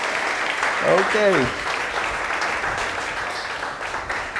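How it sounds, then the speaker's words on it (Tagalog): A church congregation applauds at a Sunday morning worship service, steady dense clapping filling the room throughout, with a voice speaking briefly over it near the start. "Palakpakan po natin si Jesus"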